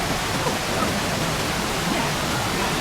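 Steady, loud rush of water pouring at Pinlac Falls in Infanta, Quezon, a dense unbroken roar filling the whole clip with no letup and no voices.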